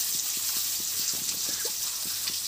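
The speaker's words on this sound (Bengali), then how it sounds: "এখানে বন্ধুরা মশলা করার জলটা দিয়ে দিলাম" Water being poured into a pan of spice paste while fish cooks, a soft continuous pour with faint bubbling and light sizzle underneath, close and steady.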